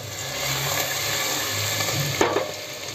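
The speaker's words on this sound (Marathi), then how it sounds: "तर आता मी कांदा आणि लसूण घातली आहे. चांगली ती गरम होऊ दे." Onion and garlic fry in a large pot with a steady low sizzle, broken near the end by a couple of sharp knocks of a spoon against the pot.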